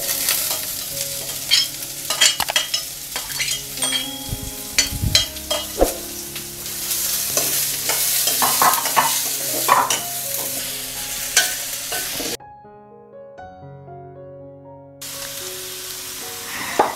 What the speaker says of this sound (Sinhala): දැන් අපි මේකට රතු ලුණු ටික එකතු කරගමු.